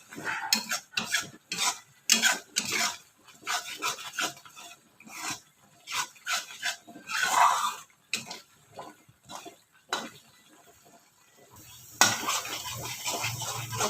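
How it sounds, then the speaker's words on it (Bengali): Spice paste is worked with a splash of water in a pan, a ladle scraping in quick rhythmic strokes with short pauses between. Near the end a louder, steadier sizzle takes over, with no talking. "জল দিয়ে ভালো করে নাড়াচাড়া করতে হবে।"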